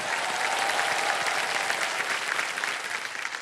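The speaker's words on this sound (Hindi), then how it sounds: "एक बार जोरदार तालियां बज जाएं इनके लिए।" A studio audience at a television quiz show bursts into sustained, loud applause, dense clapping that continues throughout.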